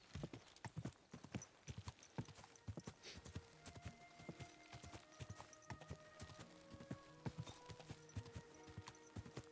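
Horse hooves in the video game Kingdom Come: Deliverance II clip-clop in a steady trotting rhythm, close and clear, with faint musical tones sustained underneath.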